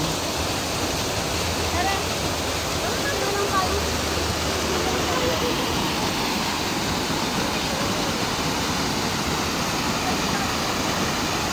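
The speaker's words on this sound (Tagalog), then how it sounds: "Ito yung Paing Falls mga friends." Paeng Falls pouring as a constant loud broadband roar of rushing water, steady throughout with voices talking faintly beneath it.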